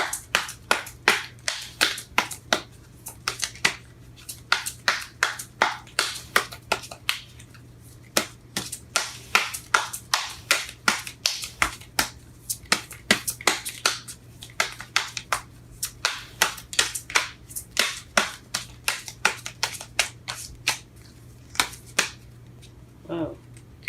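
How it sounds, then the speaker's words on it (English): A deck of tarot cards is shuffled by hand in a long run of quick, crisp riffles and slaps, close and steady, with brief pauses between bursts. "Shuffling these cards are hard."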